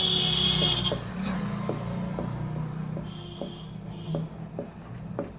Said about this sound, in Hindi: देखिए क्वेश्चन को लिखते हैं।